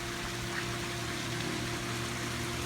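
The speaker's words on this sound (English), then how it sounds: "Got a spigot hooked up to my rain collector" Collected rainwater pouring steadily from the spigot of a rain barrel fed by house gutters, a constant gushing stream heard up close and alone, without any pauses.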